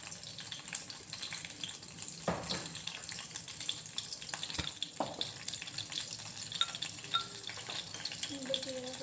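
Mustard seeds and coarsely crushed small shallots frying in hot oil in a pan, a steady crackling sizzle with scattered pops and brief louder bursts, close and continuous with no talk.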